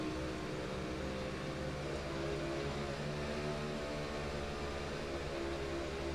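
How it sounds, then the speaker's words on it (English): The number 32 race car at Knoxville Raceway holds its engine on the throttle in a loud, sustained, droning roar. The steady tone carries without a break, and no one speaks. "listen to the throttle response here on that number 32 machine"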